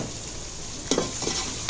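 Black chickpea pulao masala with coriander, fennel and salt gets stirred and fried in a pot, a low continuous sizzle broken by a few quick spoon scrapes against the metal.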